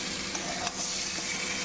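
Prawns sizzle and fry in a hot pan with vegetables for mocha and kumro chingri, a steady close hiss with a faint stir or scrape.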